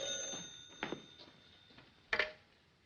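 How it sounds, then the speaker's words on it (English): An old-fashioned telephone in a 1940s home rings in two faint, brief bursts against a quiet room. "Answer the phone."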